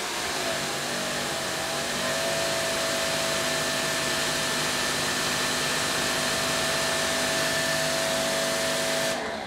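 A GreenWorks Pro electric pressure washer, rated 2700 to 3000 psi and fitted with a narrow nozzle, sprays continuously. It makes a loud, even motor drone with a hissing jet that runs unbroken until it cuts off abruptly.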